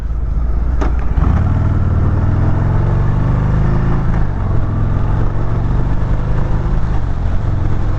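A 2020 Harley-Davidson Softail Deluxe engine pulls steadily under way, a loud, continuous low rumble with a rising tone early on, as if accelerating through a gear, and no voices over it.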